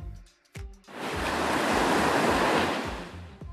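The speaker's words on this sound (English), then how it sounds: "it can find the sound of waves." Ocean surf at a beach swells into a broad, loud wash of breaking waves that builds and slowly recedes, preceded by a few brief thumps, with no voices.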